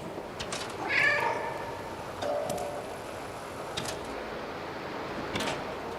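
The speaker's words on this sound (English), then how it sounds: "Oh yeah, meow." A cat meows a few times in the video game Stray, short clear calls over a soft background with faint ticking.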